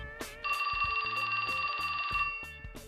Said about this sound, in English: That's my phone.